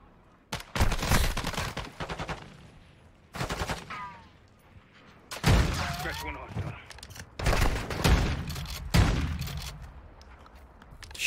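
Gunfire in the Call of Duty: Modern Warfare 2 campaign, shots fired through a vent in several loud bursts separated by short pauses, with voices talking in between.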